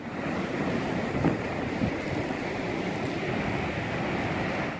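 Surf rolling onto the long, wide sand of Nacpan Beach in El Nido, a continuous wash of waves with wind rushing over the microphone, steady and unbroken.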